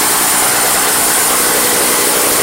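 A Toro single-stage snow blower engine runs roughly on choke, a loud, steady broadband roar with no pauses or talk.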